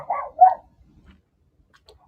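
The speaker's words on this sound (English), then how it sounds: "I'm really sorry that my dogs keep barking" Pet dogs bark a couple of times nearby in quick succession at home, then go quiet, leaving near silence.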